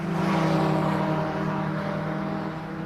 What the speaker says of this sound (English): it sounds like John Gill's car for the Cherish Rig Insurance MG Cup is not firing as well as it did